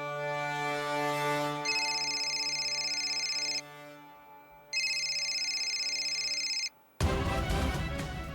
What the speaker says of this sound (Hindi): फोन आ रहा है